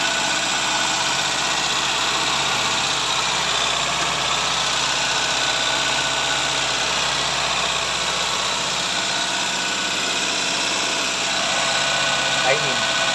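A car engine with misrouted vacuum lines and overheating runs at an abnormally high idle, a steady, loud, unbroken hum and whine sustained close by throughout.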